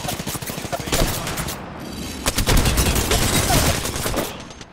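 Rapid automatic gunfire in Rainbow Six Siege, loud and close, with dense rattling bursts that swell in the middle and continue almost unbroken to the end.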